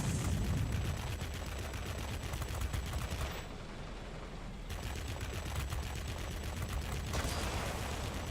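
Rapid aircraft cannon fire from a Tier X Russian Ilyushin IL-40P attack aircraft in World of Warplanes, a dense continuous roar of bursts with a brief lull midway before the firing resumes.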